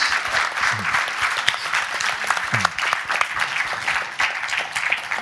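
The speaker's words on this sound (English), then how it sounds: "a round of applause for Owen and Mark" An audience at an academic session breaks into applause, a dense, lively burst of clapping from many hands, with a few brief voice fragments underneath.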